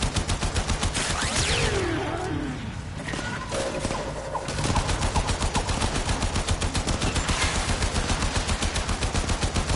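Rapid bursts of automatic gunfire from enemies and allies during a timed mission in the video game Warframe, loud and continuous with a brief lull in the middle before the shooting resumes at full intensity.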